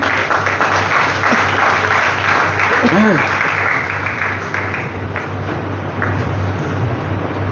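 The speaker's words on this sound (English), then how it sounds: "May I have a big round of applause for them?" A school event audience gives a big round of applause for students, a dense steady wash of clapping that holds for several seconds and then thins slightly toward the end.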